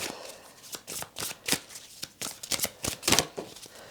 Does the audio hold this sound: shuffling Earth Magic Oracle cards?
yes